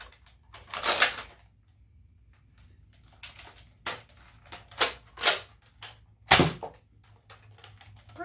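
Nerf N-Strike foam dart blaster firing, heard as a series of sharp, close clicks and pops spaced irregularly, with one louder thump near the end and quiet gaps between.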